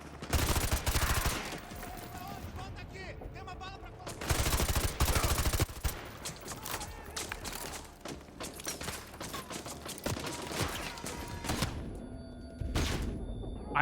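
Bursts of gunfire in Call of Duty Modern Warfare 2 Remastered, several loud volleys and rapid shots with mechanical clatter between them, a voice talking in the gaps.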